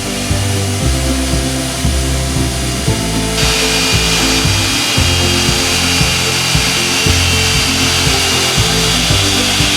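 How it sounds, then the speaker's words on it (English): A power sander grinds steadily across glass fiber laminate on a catamaran hull under construction, a continuous harsh buzzing with rhythmic low thumps running throughout, close and loud. "I also use a sander to remove some of it"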